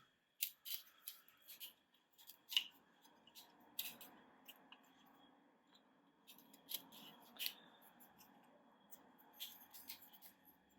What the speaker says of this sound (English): So let's cut some wire.